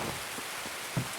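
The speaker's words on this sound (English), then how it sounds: "And I apologize for the rain." Rain falling in the video game Escape From Tarkov, a soft continuous patter and hiss with a few slightly louder drops, heard alone and without voices.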